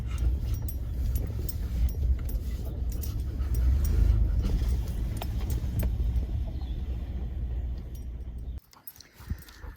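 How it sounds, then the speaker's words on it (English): A pickup truck reverses at a rural food plot camp, its engine rumbling steadily and loud with faint jingling and a dog nearby, before cutting out abruptly near the end. "I'm gonna back the truck up right there and unload it"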